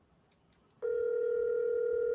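A telephone on an outgoing call, where brief faint clicks give way to a steady, clear electronic tone that holds unbroken for the rest of the clip.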